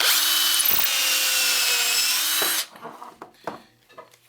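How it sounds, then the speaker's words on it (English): A power drill bores a pilot hole in wood, whining at a steady high pitch for about two and a half seconds before cutting off, followed by a few light knocks and handling sounds. "We'll take our drill"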